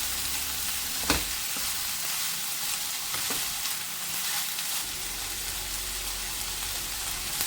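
Carrot, beans and potato palya, Karnataka style, fries in a pan with a steady, even sizzle throughout, broken by a couple of sharp utensil taps near the start.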